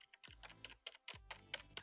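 Typing on a Razer Cynosa Chroma membrane keyboard, a quick run of soft, muted keystrokes in uneven bursts, close and fairly quiet with no talking.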